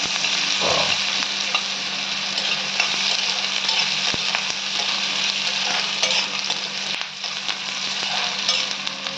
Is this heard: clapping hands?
no